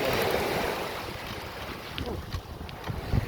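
Ocean waves roll onto a Sanibel Island, Florida beach, a broad steady wash of surf with heavy wind buffeting the microphone, no talk.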